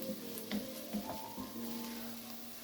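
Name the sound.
vegetables sizzling while browning for lobster bisque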